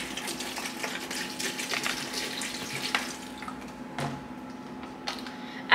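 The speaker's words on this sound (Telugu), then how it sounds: "సో అన్నీ యాడ్ చేసుకున్న తర్వాత వాటర్ యాడ్ చేసుకోండి." Water pours into a cooking pot in a home kitchen once the other ingredients are in, a steady close running splash under faint background noise.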